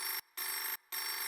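A telephone rings loudly and close by in a steady electronic pattern: two bursts of ringing separated by short, even silent gaps, with no voices.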